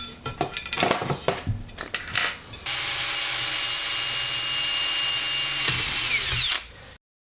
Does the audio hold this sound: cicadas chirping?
no